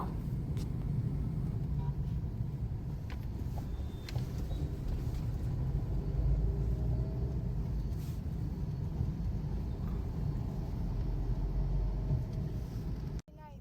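Car heading back to the hotel in Trichy, a low, steady engine and road rumble heard from inside the cabin, fairly quiet, with a voice speaking over it.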